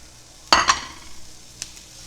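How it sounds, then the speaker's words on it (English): Rice is stirred with halved salad tomatoes in a hot pan, giving one sharp scraping, sizzling burst followed by a second stir sound and a faint later clink, close and without talk. "Stir again."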